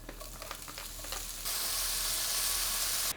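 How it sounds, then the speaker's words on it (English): Pancetta browning in hot olive oil in a pan, a soft crackle at first that jumps to a loud, dense, steady sizzle partway through and holds until the end. "I'm gonna go ahead and add my pancetta, and we just wanna brown this until it gets nice and crispy"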